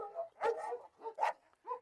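Kangal and Cane Corso dogs bark in short bursts, four or five loud close yelps and barks with small gaps between them.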